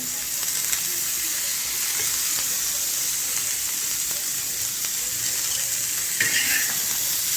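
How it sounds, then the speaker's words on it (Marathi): Onion sizzles steadily in hot oil on an iron pan, a close crackling fry with occasional scrapes and taps of a spatula. "आता आपला कांदा छानपैकी भाजून घेऊया। थोडंसं तेल घालूया, जेणेकरून लवकर भाजला जाईल कांदा।"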